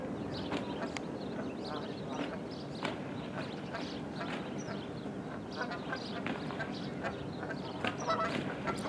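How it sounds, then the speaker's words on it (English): Geese fight in a prolonged scuffle, with scattered honks, quacks and flapping heard faintly under steady background noise, while people talk over it. "I've never seen a goose fight last this long."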